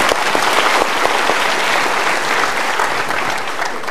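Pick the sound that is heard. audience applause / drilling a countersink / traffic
audience applause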